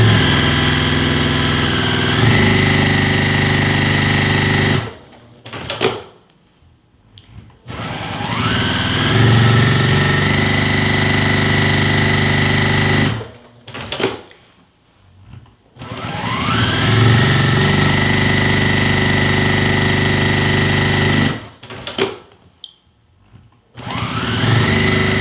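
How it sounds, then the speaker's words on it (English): A Juki sewing machine stitching fast at full working speed on a pillow, with long loud runs of whirring motor and needle separated by brief pauses, repeated three times with no talking. "I'm gonna go as fast as I do when I'm sewing normally, just so y'all can see how fast this can be and how fast my Juki goes"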